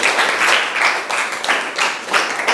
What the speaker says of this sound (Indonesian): tepuk tangan untuk Now